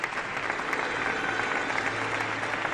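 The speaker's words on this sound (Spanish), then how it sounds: "Pido un aplauso para Lorenzo Fernández." A studio audience applauds a guest on a Spanish-language radio-style programme, with steady, dense clapping from beginning to end at moderate volume.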